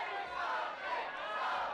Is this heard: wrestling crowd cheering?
yes